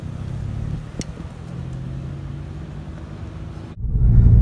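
Toyota Yaris GRMN Gazoo Racing hot hatch heard from inside, a steady low engine and road rumble while cruising, rising to a louder, heavier drone near the end.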